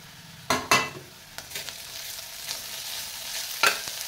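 Ginger-garlic paste sautéing for soda biryani in a pressure cooker, with a steady sizzle and several sharp spatula scrapes and clinks against the metal, loudest near the start and once more toward the end.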